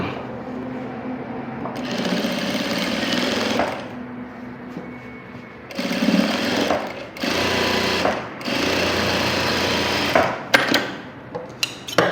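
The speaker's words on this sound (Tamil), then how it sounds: "பட்டியை சேர்த்து தச்சிடுறேன் கம்ப்ளீட் பண்ணிடுவோம்" A sewing machine stitches a band onto a blouse in loud, rapid bursts of mechanical rattling, starting and stopping several times with short pauses and a few clicks near the end.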